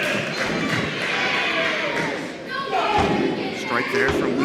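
A single heavy thud of a wrestling strike lands in the ring at a live Chaotic Wrestling event, set against steady crowd noise and a commentator talking over the action.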